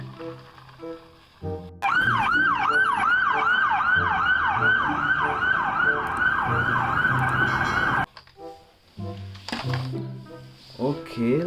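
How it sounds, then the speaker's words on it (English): Toy police car siren wailing in a loud, rapid up-and-down cycle for about six seconds, with people talking before and after it. "Police car."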